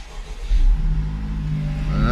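A Honda Civic Type R FL5, in neutral, starts up: a loud starter crank bursts into a steady, close idle rumble that holds on, with a brief voice near the end.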